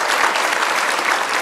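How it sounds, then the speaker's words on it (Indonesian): Studio audience applause on an Indonesian televised political talk show, a dense, steady burst of many hands clapping close and loud throughout, with no voices over it. "Boleh kasih tepuk tangan Pak Ahmad Yani."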